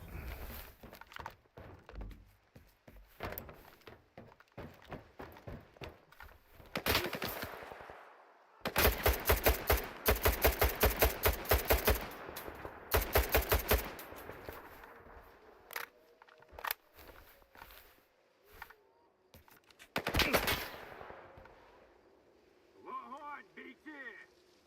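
Gunfire in S.T.A.L.K.E.R. 2 arrives as loud, repeated bursts of rapid automatic fire with scattered single thuds and shots between volleys, mostly close. Quieter stretches separate the heaviest bursts.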